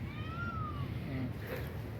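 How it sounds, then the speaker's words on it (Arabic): A kitten gives a thin, rising-and-falling meow, close and clear, followed by a fainter second cry over low outdoor background noise near a forest restaurant. "شوف هاد القطيطة"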